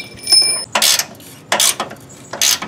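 Ratchet wrench tightening the front spring bolts on a Pontiac GTO, heard as three separate bursts of quick metallic clicking spaced evenly apart, close and fairly loud.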